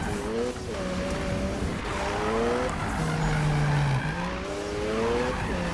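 A car drifting in Need for Speed 2015 on PS4, engine droning steadily with rising and falling pitch while tires squeal and skid through long slides, continuous and loud with no talk.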